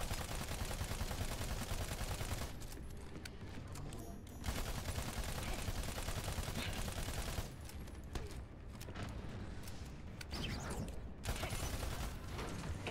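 Gunfire and explosions from the Overwatch shooter game rattle in dense, rapid bursts with mechanical clatter, broken by brief lulls.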